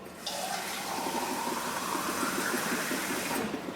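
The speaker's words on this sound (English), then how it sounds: "I'm going to add 1 more can of water" A can of water pours into a pot of simmering pasta sauce, a steady, close splashing gush that runs for about three seconds before tapering off.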